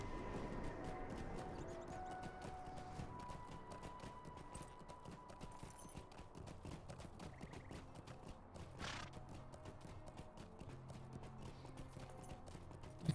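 Horse steed hooves clip-clopping at a steady pace in the fantasy game LOTRO, quiet and continuous with game ambience and a brief whinny-like tone mid-way.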